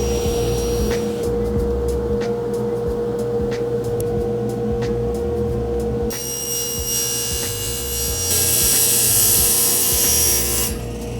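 A power tool cuts a piece for a DIY car camping platform with a steady buzzing whine and intermittent ticks, growing harsher and louder in the final seconds.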